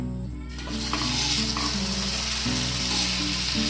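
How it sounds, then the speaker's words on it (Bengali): Potato tiffin snacks shallow-fry in hot oil over a low-to-medium gas flame, giving a loud, continuous crackling sizzle that swells as the pieces go into the pan, with a steady low hum underneath. "এবার গ্যাসের ফ্লেমটাকে লো টু মিডিয়াম রেখে আমি যে টিফিনগুলো বানালাম সেগুলো তেলের মধ্যে দিয়ে দিলাম"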